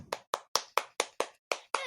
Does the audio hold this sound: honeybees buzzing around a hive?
no